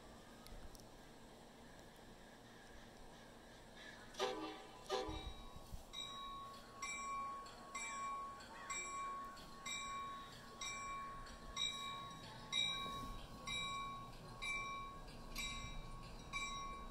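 A passenger train pulls out of a station on a rail journey, with a steady rumbling roll and rhythmic wheel clatter, a brief horn-like blast and faint squeals and tones. It is heard from on board at moderate level, without talk.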